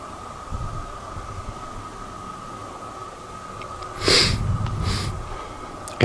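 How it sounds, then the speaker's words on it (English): Sniffling from a person with a cold: a quiet dark ambience with a faint steady hum, then two sharp nasal sniffs near the end, close and breathy. "I do apologise for the sniffles tonight"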